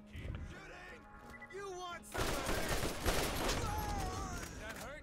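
Assault rifle gunfire in the Borderlands video game, a dense burst of shots starting midway and continuing loud to the end, with game sounds and faint talk before it.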